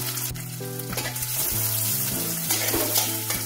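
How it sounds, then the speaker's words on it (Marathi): Onion, garlic, cumin, dried red chillies and chopped green chillies sizzle steadily in hot oil in a pan, a continuous close frying hiss with no one talking over it. "कांदा छान ब्राऊन रंगात होईपर्यंत परतवून घ्यायचा आहे"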